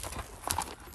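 A calm riding horse at a stud farm in Pune gives a brief, soft patter of hoof clip-clops, a few quick strikes heard faintly against quiet background noise.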